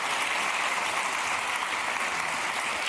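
Studio audience applause, a dense, even roar of clapping that holds steady at a fairly loud level throughout, with no voices over it.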